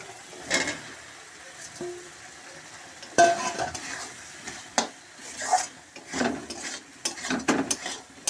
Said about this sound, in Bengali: কষানো হয়ে গিয়েছে, এবার আমি আলু দিয়ে দিচ্ছি।